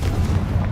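Confringo spell explosion in the video game Hogwarts Legacy, a short, dense low-end boom rumbling steadily through under a second with no pause or talk.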